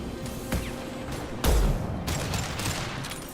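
Gunfire in Mass Effect 2 Legendary Edition, a burst of sci-fi weapon shots over steady battle ambience, with a heavy close boom near the middle followed by continued crackling fire.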